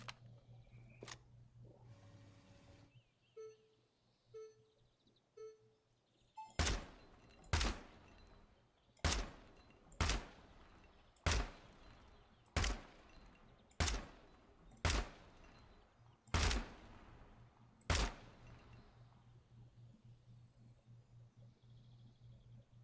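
Gunshots at an indoor range in Gunsmith Simulator, a dozen sharp, loud reports fired one at a time at a slow, fairly even pace, with a few quieter clicks and taps before the firing starts and no voices.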